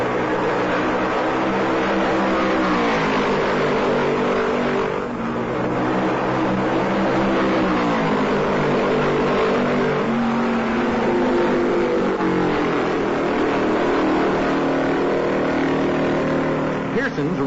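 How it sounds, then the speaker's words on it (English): Ford stock cars with high-performance engines race at Darlington in the 1968 Southern 500, a continuous engine roar rising and falling in pitch as they pass, with commentary heard over it. "Both cars have Ford's high-performance engines."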